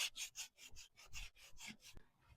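Sandpaper is rubbed by hand over a wooden piece in about nine steady back-and-forth strokes, close and rasping, each stroke a short scratchy swish, with no talking.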